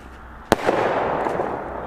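A crackling firework, the XPE 2701, goes off with one sharp loud bang followed by a dense, sustained fizzing crackle that holds steady to the end.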